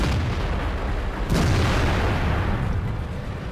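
The Waffenträger auf Pz.4 tank destroyer's main gun fires a single heavy boom in the video game World of Tanks, breaking through a continuous rumbling engine and battle backdrop.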